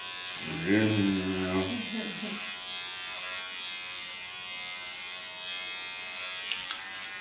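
An electric hair clipper buzzes steadily close by while trimming hair for a side and nape shave, holding a constant hum, with a voice speaking briefly over it near the start.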